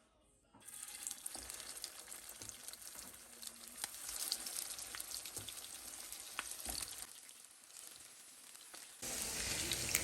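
Patties of potato and ground beef fry in a pan with a steady, soft sizzle, broken by a few clinks and scrapes of a utensil, the crackle growing louder near the end.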